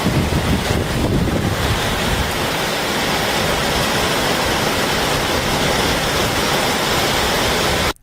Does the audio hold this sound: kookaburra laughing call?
no